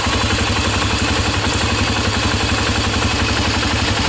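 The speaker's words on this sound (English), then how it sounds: "The noises from the engine" A 1996 Honda TRX300EX ATV engine idles steadily close by, with an even, rapid low-pitched chugging and light mechanical clatter that carries on without a break and no voices over it.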